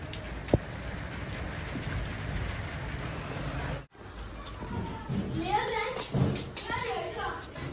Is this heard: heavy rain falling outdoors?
yes